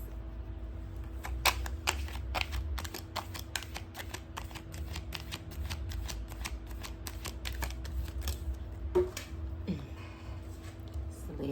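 A tarot card deck is shuffled and cut on a table, with a long run of rapid, crisp card riffles and flicks, close and steady, then some softer handling at the end.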